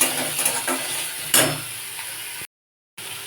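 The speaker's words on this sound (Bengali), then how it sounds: "এবার পেঁয়াজটা ভালো করে ভেজে নিই" Onions fry in a pan with a low sizzle, joined by a few clinks and scrapes of a utensil against the pan, then a short silent gap before the frying resumes.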